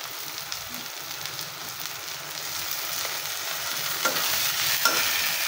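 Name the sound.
frying ginger garlic paste with onions in pan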